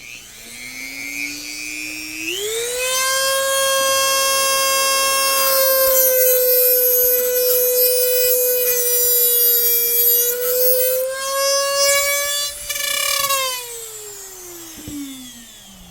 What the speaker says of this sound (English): I have no issues just whipping through it with a grinder, with a cutoff wheel, really.